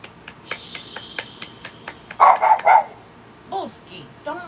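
A dog barks and yips in short bursts, loudest in a cluster near the middle, with people talking in the room around it.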